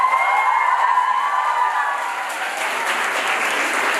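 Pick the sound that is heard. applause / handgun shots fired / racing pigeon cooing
applause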